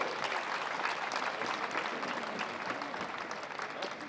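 Sustained audience applause at an outdoor medieval festival performance of Romeo and Juliet in Montecchio Maggiore, a dense steady clatter of many hands clapping throughout with faint crowd murmur underneath.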